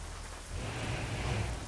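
Heavy rain pours steadily in Euro Truck Simulator 2 during a truck drive in a Ford F-Max, a dense continuous hiss with a low rumble underneath, swelling slightly louder partway through and holding without any voices.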